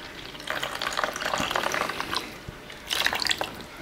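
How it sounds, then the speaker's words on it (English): Cold water poured into a self-heating hotpot container up to a fill line, a steady close splashing, trickling stream that runs continuously and swells again near the end. "It says to fill with cold water on this one to the line inside here."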